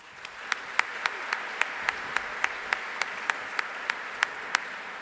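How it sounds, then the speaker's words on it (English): A small audience claps at a student showcase award program, honoring Golden Apple sponsors; sparse, distinct claps ring out at a steady rhythm, fairly faint and roomy. "please join me again in one last round of applause for each of our Nourish Every Mind Golden Apple sponsors"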